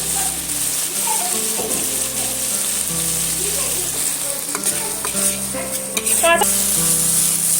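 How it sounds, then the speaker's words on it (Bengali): Tomato with ground spices and green chillies is sautéed in a pan for an egg curry, giving a loud, close, continuous sizzle with spatula scraping and stirring strokes, and a low steady hum underneath. "টমেটোটা আমি সুন্দর করে কষিয়ে নিচ্ছি"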